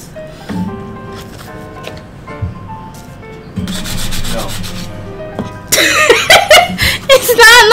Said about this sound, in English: So apparently I have to sand this first.